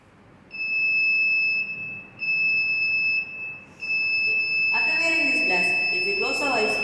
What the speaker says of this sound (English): If we close our eyes, it will automatically give the information to the buzzer to make sound.